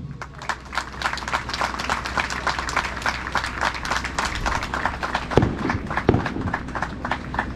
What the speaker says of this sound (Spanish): A estos tres jóvenes quiero que les brindemos un fuerte aplauso.